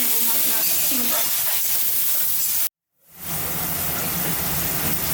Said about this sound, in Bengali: একবারে ভেজে নেব মশলা চিংড়ি মাছ।